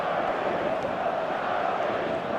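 Stadium crowd in the eFootball mobile video game, a steady loud roar of massed voices with a constant wash of cheering and no individual breaks.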